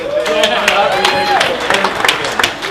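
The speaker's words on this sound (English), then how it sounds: "this is a beautiful, deep, deep couple that deserves a very loud round of applause" A crowd gives a loud round of applause for a couple: dense, sustained clapping close by, with voices calling and cheering over the top.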